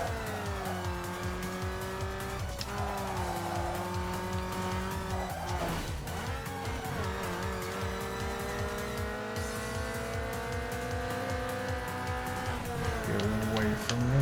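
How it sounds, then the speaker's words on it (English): Cars race in Need for Speed Underground 2, with engines buzzing and revving continuously and tires squealing through turns. Nearby engine drone and sharp skids overlap a steady musical background, with no talk heard. "Hear you buzzing with your engine behind me."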